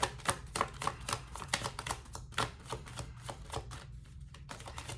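Tarot cards being shuffled, a rapid run of crisp riffling slaps and flicks close to the microphone, steady and continuous with a low hum underneath.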